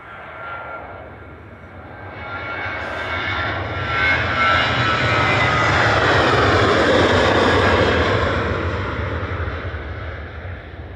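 A Ryanair jet takes off from Manchester Airport bound for Milan, its engine roar swelling from moderate to loud and holding as it passes, then easing slightly, with wind buffeting the microphone.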